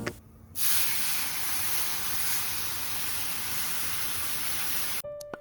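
Water poured into gram flour frying in a pan sets off a loud, steady hiss of sizzling steam that holds unbroken for several seconds, then cuts off abruptly near the end.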